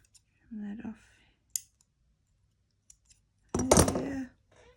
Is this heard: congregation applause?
no